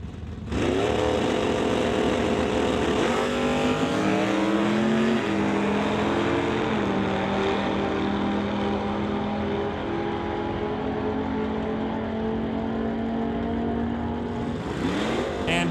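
Two drag racers launch side by side, a 1996 Camaro Super Stock car against a wheel-standing Barracuda, engines roaring loud and sustained with rising revs through the run, then dropping off at the end.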